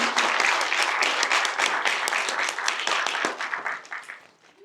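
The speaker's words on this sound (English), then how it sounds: "give them a round of applause" Audience applause for instructors at a YSO Core graduation, a loud burst of many clapping hands that holds briefly, then thins to scattered claps and dies away.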